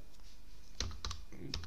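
Sparse keystrokes on a computer keyboard while entering commands on a Raspberry Pi 4, quiet at first, then a few clustered clicks and taps close to the mic, with no speech.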